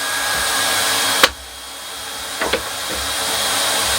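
Hot air plastic welder blowing a steady, loud hiss while heating a plastic rod into the material, broken by a sharp knock and a couple of small clicks.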